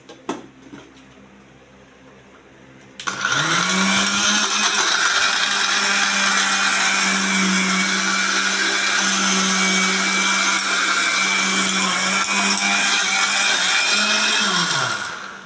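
A mixer grinder starts after a short quiet stretch and roars loudly and steadily for about twelve seconds, grinding trimmed bread into crumbs, then spins down at the end.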